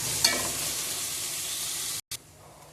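Ginger and garlic sauté in a pan for mushroom biryani, a close, bright steady sizzle with a brief sharp stir near the start and a momentary dropout toward the end.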